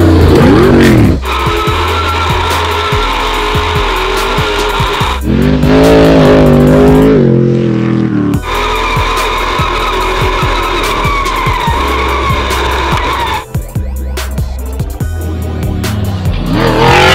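Stadium Super Trucks race around a small dirt track with big jumps at Glen Helen, with loud engines revving, tires skidding and squealing, and trucks passing close in bursts with short lulls.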